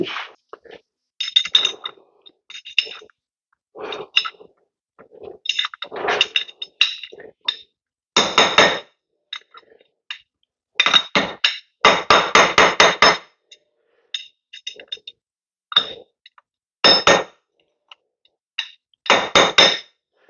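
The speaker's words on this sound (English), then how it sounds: "So we'll just grab a punch and a hammer. We'll punch that up." A hammer strikes a metal punch on a Honda CR125 Elsinore engine part during reassembly, sharp ringing taps in irregular bursts and quick clusters, close and loud with quiet gaps between.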